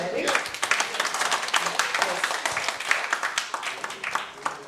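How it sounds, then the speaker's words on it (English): Lively audience applause at a Lions club district meeting, dense irregular clapping with sharp peaks, some voices underneath. "So can we acknowledge really good applause for those who are sharing?"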